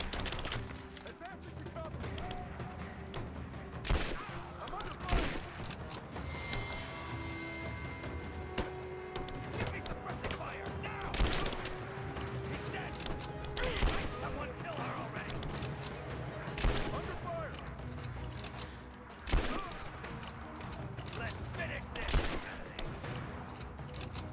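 Repeated bursts of gunfire from bad guys in Rise of the Tomb Raider, sharp shots and rattling volleys recurring throughout, loud over a busy game soundscape with some talk.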